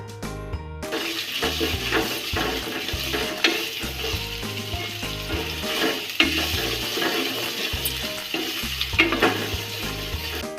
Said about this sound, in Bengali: তারপরে এতে পেঁয়াজ ও রসুন কুচি দিয়ে ভালোভাবে ভেজে নেব